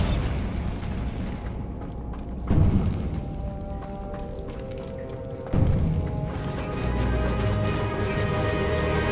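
Bombarda spell explosions in Hogwarts Legacy, two sharp loud blasts a few seconds apart, each bursting out of a rumbling, noisy game soundscape and settling into a dense roar.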